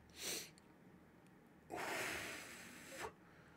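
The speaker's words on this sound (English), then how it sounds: "Oh, God, I sneezed." A single person sneezes twice, close and quiet: a short sharp burst, then after a pause a longer breathy sneeze with an airy hiss that trails off, in an otherwise quiet room.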